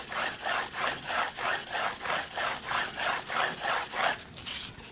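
A Samurai single bevel broadhead drawn in light sharpening strokes, about a dozen even, rhythmic rasping passes in close succession, near and clear, then stopping.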